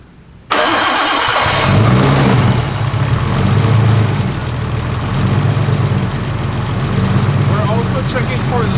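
A Nissan Skyline with an RB26 engine cranks and fires abruptly, then settles into a loud, steady idle with a slight early rev, close up and continuous.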